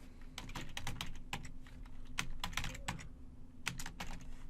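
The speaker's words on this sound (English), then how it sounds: "we're going to type marketplace install all" Rapid clicking keystrokes on a computer keyboard as a command is typed, irregular bursts of sharp taps with short pauses between, close and clear over a faint steady hum, no talking.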